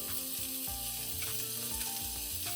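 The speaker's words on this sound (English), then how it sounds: "Fry this together for about 5 minutes." Carrots, black fungus and lily frying together in a pan for hot and sour soup, a continuous close sizzle with faint stirring under a steady hum, no voices.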